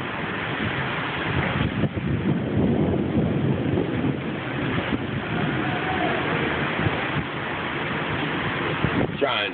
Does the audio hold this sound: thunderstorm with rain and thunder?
yes